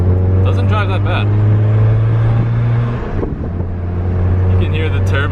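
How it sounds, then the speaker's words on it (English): An oil-burning MK6 VW Golf R with a big turbo drives along, its engine holding a steady low drone with a shift partway through and turbo air rushing, while brief faint voices sit under the car noise. "You can hear the turbo just the turbo just shooting out so much air."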